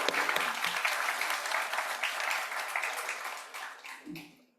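An audience at a Pacific Northwest small business pitch competition applauds the event's title sponsor, a full, dense burst of clapping that holds steady and then tapers off to silence.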